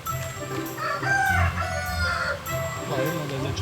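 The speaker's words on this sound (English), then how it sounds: "I didn't know there's a chicken coop." Close, loud rooster crowing and clucking fill the air at a village plant nursery in Parra, North Goa, with a chicken coop, ducks and chickens, several overlapping calls with voices faintly underneath.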